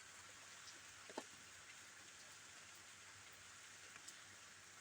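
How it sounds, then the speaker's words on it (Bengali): Steady light rain hissing outdoors at low volume, with a few scattered drips landing nearby and no voices. "বাইরে খুব বৃষ্টি হচ্ছে"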